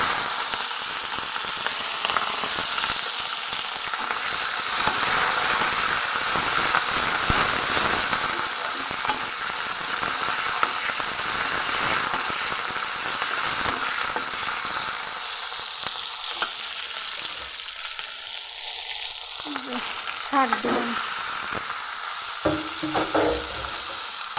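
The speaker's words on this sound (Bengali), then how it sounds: "কালো জিরা ফোড়ন দিয়া শাক ভাজবো" Freshly picked leafy greens fry in oil after a nigella seed tempering, giving a dense, steady sizzle with stirring scrapes. The hiss eases toward the end, leaving a few sharp stirs and taps. Nobody speaks.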